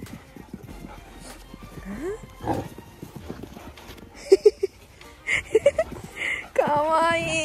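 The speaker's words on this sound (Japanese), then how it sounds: "もうドタドタ音するね" A three-month-old Doberman puppy thuds around indoors with heavy, irregular footfalls, mixed with scuffling and small yelps while people talk and laugh nearby.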